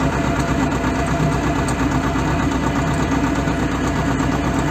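A T-25 tractor engine idles during pumpkin weeding in a field, a steady, rough low chugging that carries on without a break. It sounds close and loud, with no speech over it.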